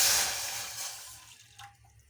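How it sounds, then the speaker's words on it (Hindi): One cup of water poured into a pan for making kahwa tea: a steady splashing rush that starts strong and fades away over about two seconds, with no voices. "तो यहाँ पर मैं पैन में 1 कप पानी डाल दूंगी।"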